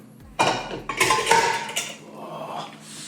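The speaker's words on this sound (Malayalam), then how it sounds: "പക്ഷെ അടപ്പ് അതിനകത്തോട് വീണു" Metal pot lid dropping into a vessel in a home kitchen, a sharp clatter followed by a few ringing metallic rattles and bounces close by, fading as it settles.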